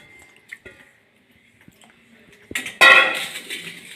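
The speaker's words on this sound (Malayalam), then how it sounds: "പരിപ്പ് കഴുകിയെടുത്തിട്ടുണ്ട് അപ്പോൾ കുക്കറിലേക്ക് ഇട്ട് കൊടുക്കുക" Washed dal going into a pressure cooker, heard as a few soft clinks and taps, then a sudden wet clatter and rush of lentils and water hitting the metal pot, close and loud.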